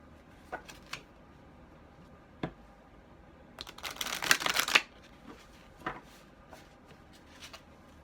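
Large tarot cards being handled and shuffled close up, with scattered light card taps and flicks around a dense, riffling burst of shuffling lasting about a second, otherwise quiet.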